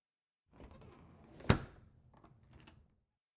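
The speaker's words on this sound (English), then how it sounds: "let me just close the door behind us" A door swings shut with a rustle of movement, a single sharp close, then soft shuffling afterward; no voices.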